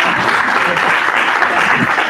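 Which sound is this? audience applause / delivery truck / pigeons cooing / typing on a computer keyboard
audience applause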